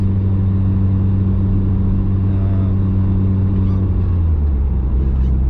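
A stock-block Mitsubishi Evo pulls hard in second gear, its engine a loud, steady, close-up drone with strong low rumble that holds for several seconds without a break.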